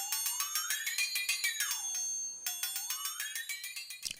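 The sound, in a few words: flexitone, bell-like percussion with pitch bent by squeezing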